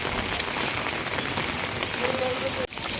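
Rain falls steadily at Old Digha beach, a dense close patter on surfaces, heard alone with a brief faint tone near the end and a sudden cut-off.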